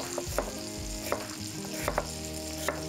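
Chicken leg and thigh pieces sear in a pan with a steady moderate sizzle and a few periodic sharp taps or turning scrapes, continuous and close, with no speech.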